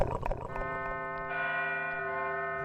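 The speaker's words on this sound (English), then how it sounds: "By the sound of the mortuary bells, it's now the witching hour" Resonant mortuary bells toll, their sustained ringing tones layering and swelling after a few clattering strikes at the start, with no voices.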